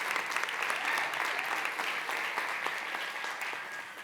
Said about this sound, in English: Let's have a big round of applause for Margaret.